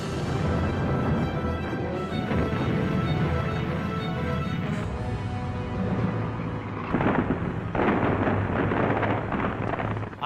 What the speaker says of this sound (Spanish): las tropas alemanas oyen cañonazos distantes procedentes del noroeste y del sur